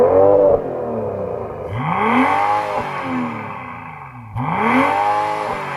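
A BMW M340i straight-six with sports exhaust, stationary in sports mode, revs sharply twice, each time rising to a loud howling peak and falling back to idle, up close.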